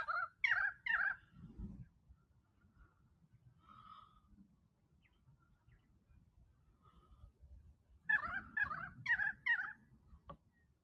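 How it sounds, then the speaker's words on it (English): A currawong gives two bursts of loud, rhythmic warbling calls at Kings Tableland, one at the start and one near the end, separated by a quiet stretch. "That was a currawong"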